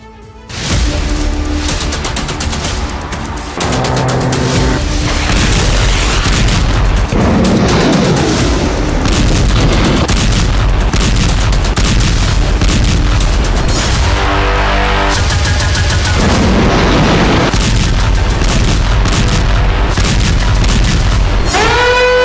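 Explosions from strikes on Russian targets during the war with Ukraine, a loud, continuous run of blasts and crashing booms layered over one another with no break for the whole stretch, overwhelming and dense.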